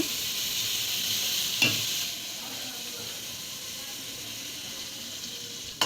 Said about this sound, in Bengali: তেলের মধ্যে দিয়ে দিচ্ছে পেঁয়াজ কুচি এখন দিয়ে দিচ্ছে মাছগুলো